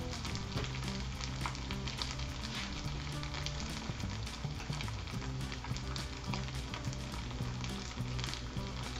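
Gnocchi fry in a pan with a steady, dense sizzle and crackle that runs close and loud throughout, with no talking.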